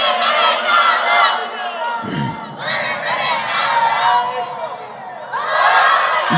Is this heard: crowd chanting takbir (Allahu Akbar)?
yes